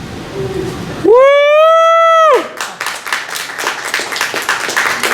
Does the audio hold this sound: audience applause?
yes